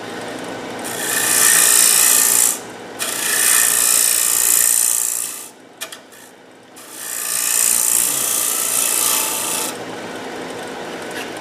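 A bowl gouge cuts wood on a spinning lathe, turning a winged bowl, in long rasping passes with short pauses between them. The sound is loud, close and steady.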